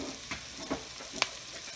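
Vegetables with chili flakes cook gently in a pan, a faint low sizzle broken by a few soft stirring scrapes and one sharp tap.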